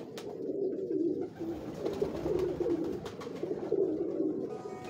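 Pigeons coo continuously in a low, rolling chorus from a Lahore rooftop loft, close and steady throughout.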